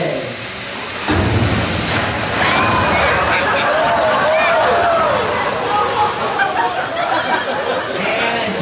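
Water rushing and splashing toward riders on an attraction at Disney Hollywood Studios, a loud steady gush that starts suddenly and continues with a voice speaking over it.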